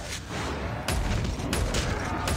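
KRM-262 shotgun firing rapidly with a lava upgrade in Call of Duty Mobile zombies mode, loud close blasts that run into one another in a dense burst, with a sharp jump in loudness partway through.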